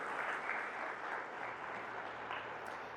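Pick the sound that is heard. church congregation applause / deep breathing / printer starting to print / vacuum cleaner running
church congregation applause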